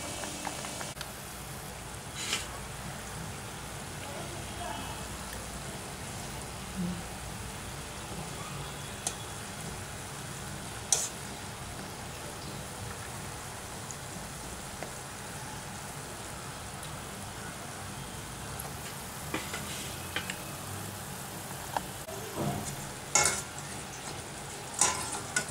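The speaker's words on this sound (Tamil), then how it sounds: "இதே மாதிரி எல்லாத்தையும் பொரிச்சு எடுத்துக்கலாம்." Badusha sweets deep-frying in hot oil, a quiet, continuous bubbling sizzle like light rain, steady for a long stretch with occasional clinks of a utensil.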